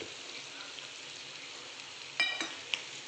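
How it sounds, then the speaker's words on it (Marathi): Chili paneer with salt and chopped coriander is stirred in a pan, a quiet low sizzle running throughout, broken near the end by a couple of short scraping clatters of a spoon against the pan. "व्यवस्थित मिक्स करून घ्यायचं आहे."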